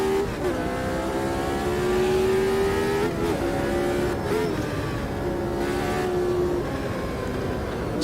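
GT3 race car engine in Automobilista 2, loud and steady with pitch rising and dipping as it revs and shifts, gear changes marked by brief breaks, with no talk.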